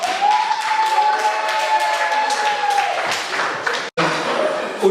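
Applause from an audience welcoming a performer onstage at a community gathering, a dense continuous clapping mixed with crowd noise and a sustained tone, cut briefly near the end before resuming.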